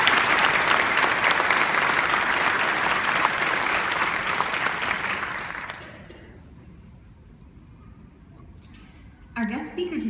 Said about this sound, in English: please join me for a round of applause for the staff and drill instructors of Drill Instructor School.